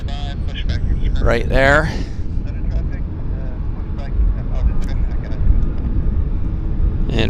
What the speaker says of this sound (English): This is Air Canada Flight 7 going to Hong Kong.